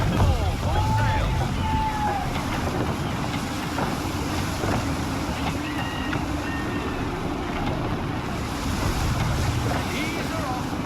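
Gusty wind roars steadily around a sailing ship at sea in Assassin's Creed 3, with waves and creaking rigging, a constant loud wash throughout.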